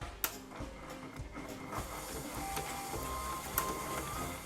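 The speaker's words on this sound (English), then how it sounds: "Now using a hand mixer or a stand mixer, we're going to beat this up until it's nice and smooth." An electric hand mixer beats cream cheese and icing sugar in a bowl with a steady, faint mechanical whir, broken by a few sharp clicks and knocks.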